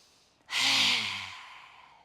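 A single forceful exhale with the tongue out during yoga breathing, close and loud, a breathy rush that swells suddenly and then fades slowly over about a second and a half, with no talk.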